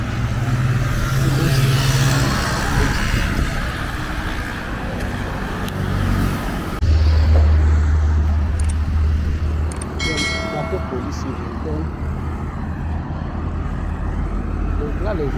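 Busy road traffic at the Akwaba crossroads in Port-Bouët, Abidjan, with vehicles stuck in a jam: a steady roar of engines and a loud low idling rumble, brief horn toots and a bell-like ring, while someone talks over it.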